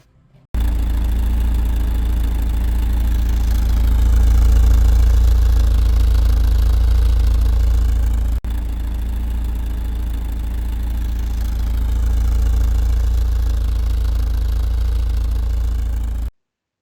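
A Fiat Spider engine, just after a carburetor adjustment, idles steadily with a loud, low, even rumble that runs unbroken for the whole stretch. There is no speech.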